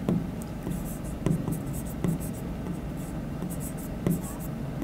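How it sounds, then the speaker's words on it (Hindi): Marker or chalk scratching on a board in a physics classroom, in a steady run of short strokes with occasional sharper taps, close and quiet. "लिख देता हूं मैं"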